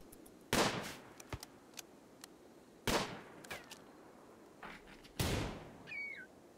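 Automated defensive turrets firing in the colony-building game RimWorld: three separate loud shot bursts spaced a couple of seconds apart, each with a short decay, over a quiet background with faint chirps.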